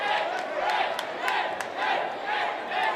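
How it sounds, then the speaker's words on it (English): A home crowd at a high school basketball game between Schaumburg and Barrington cheers and roars in a gym, a dense sustained wash of many voices with a few sharp squeaks and shouts on top. "And now this home crowd has a little bit of life as well."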